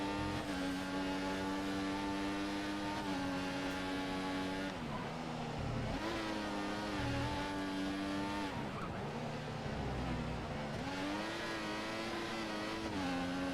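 A Formula 1 car in the F1 2014 racing game screams along, its engine note rising through the revs, dropping at each gear change or braking point and climbing again, loud and continuous with no talk.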